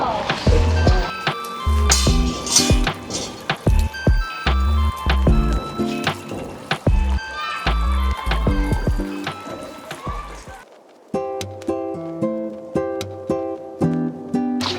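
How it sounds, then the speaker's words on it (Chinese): Hands are washed at a temple purification basin on a mountain, with water splashing and dripping in close, uneven spurts. Tonal knocks ring alongside, and a clear bell-like ringing sounds near the end. "那我们再来洗洗手"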